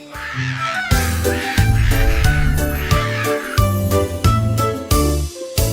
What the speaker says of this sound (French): Percy le perroquet a crié toute la journée.